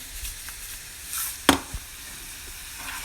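Food frying in a pan with salt just added, a soft continuous sizzle close by, punctuated by a sharp clink and a brief stirring knock.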